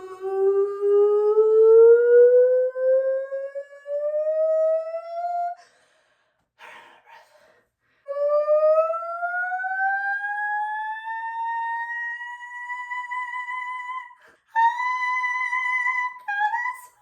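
A person sings rising and falling siren-like wails in a shower, a voice imitating a siren with long sweeping tones in several bursts separated by short pauses.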